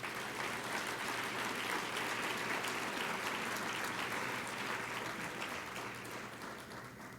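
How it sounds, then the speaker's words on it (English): Steady, dense applause from a large audience at a corporate CEO roundtable event, loud and continuous throughout before tapering slightly at the end, with no talk over it. "So give our CEOs a big applause."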